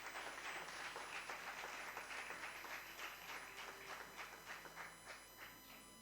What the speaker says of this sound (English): Give a big round of applause to the champions